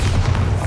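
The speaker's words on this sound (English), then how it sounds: "Bombarda." Bombarda blasting spell going off in Hogwarts Legacy, a single deep booming thud with heavy low rumble filling the whole short moment, loud and close.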